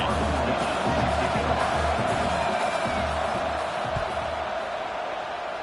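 Stadium crowd at a college football game against Utah, a broad sustained roar and cheering after a punt return, steady and loud throughout then easing slightly near the end.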